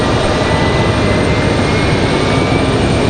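Alaska Airlines narrow-body jet at Raleigh-Durham airport, a loud, dense broadband engine roar held steady for a few seconds, close and unbroken, with no talking.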